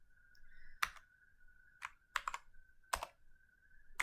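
A few keystrokes on a computer keyboard while code is being written: isolated clicks and short bursts spread over a few seconds, close and fairly quiet, over a steady faint electrical hum, with no talking.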